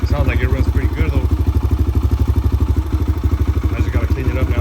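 A Kawasaki KLX 140 dirt bike engine idles steadily up close, with a fast, even single-cylinder putter that runs the whole time, and a voice speaks briefly over it.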